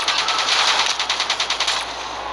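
A short, loud burst of rapid minigun fire in the video game Call of Duty Black Ops 3, a steady rattling stream of shots with no voices over it.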